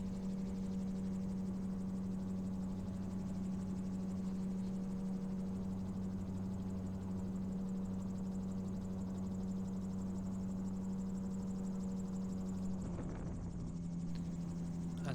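Gyroplane engine droning steadily in flight above the Welsh hills near Lake Vyrnwy, a constant low hum with a faint rhythmic rotor beat throughout, briefly disturbed near the end by a rustle.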